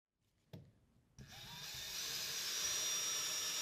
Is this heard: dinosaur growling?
no